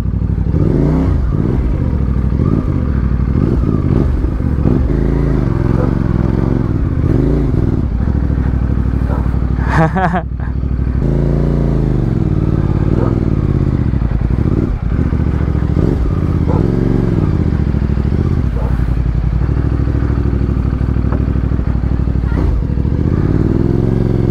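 A motorcycle engine drones loudly and continuously while riding on a road trip from Daet, Camarines Norte to Caramoan, Camarines Sur, Philippines, with shifting revs and a brief dip partway through.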